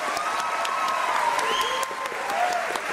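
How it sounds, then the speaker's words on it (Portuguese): Studio audience applause on a Brazilian late-night talk show, a dense, steady wash of clapping with some crowd noise. A faint tonal line runs through it. "Posso pedir pra sua plateia um aplauso?"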